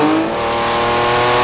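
Lamborghini Countach engine revving loud and close, a sustained, steady, strained roar that holds for about a second and a half with no talk.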